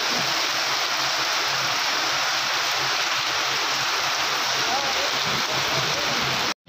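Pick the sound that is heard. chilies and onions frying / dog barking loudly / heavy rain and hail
heavy rain and hail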